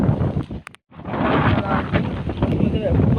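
Rain and gusting wind buffet the microphone beside Kadawatha lake in Sri Lanka, a loud, dense roar of weather that drops out for a moment and then returns steady and close.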